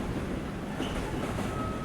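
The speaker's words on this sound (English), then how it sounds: "That's a huge long train." A long train passes in the Australian trucking video game Truck World Australia, making a steady rolling rumble of wagons with a faint thin squeal, continuous and fairly close, with no talking.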